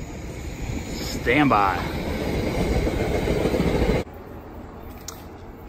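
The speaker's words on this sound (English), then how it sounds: "Here comes the train." A train rumbles past nearby with a steady roar and clattering wheels, loud and continuous before cutting off abruptly, while someone speaks briefly over it.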